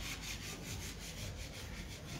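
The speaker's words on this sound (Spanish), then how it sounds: "porque andan acá lijándolas para pintarlas." Wooden doors being sanded by hand before painting, a steady, faint rasping rub of abrasive on wood heard from a short distance, with no talk over it.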